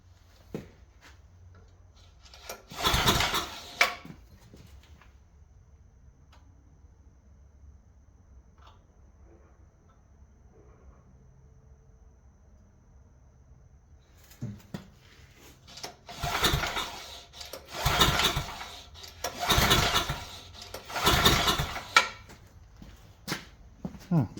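A marketplace generator, sold as not working, is cranked to start, with one short burst early and then several loud pulling bursts in a row near the end, separated by quiet pauses.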